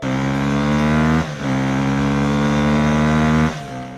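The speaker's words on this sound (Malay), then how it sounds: "Sedang si Yin ni bawa motor dengan laju." A motorcycle is ridden fast, its engine giving a loud close buzzing drone full of harmonics. The pitch climbs steadily, then briefly drops twice as if the rider shifts gears or eases off before revving again.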